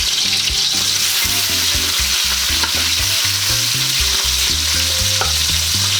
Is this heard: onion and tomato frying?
yes